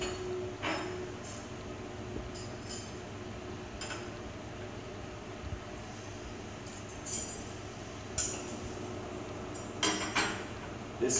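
Metal cutlery, a knife and a spoon, set down on a table while it is being laid: a few light clinks and taps scattered over a steady low background hum, moderately close and fairly soft.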